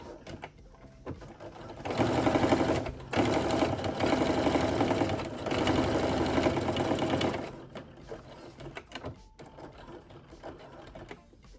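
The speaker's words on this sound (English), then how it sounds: "Make sure you back stitch to lock your stitching in place." A sewing machine runs a steady mechanical whir for about six seconds while back stitching a seam on a denim jacket, with brief pauses and quieter handling noise before and after.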